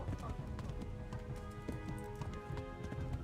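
Horse galloping at speed in the medieval action game Kingdom Come: Deliverance, a steady run of hoof clip-clops over game music and ambience.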